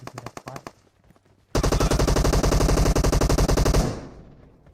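Gunfire in the video game PUBG Mobile: a few quick single shots, a pause, then a loud sustained automatic burst of rapid rounds lasting over two seconds before cutting off into a fading tail.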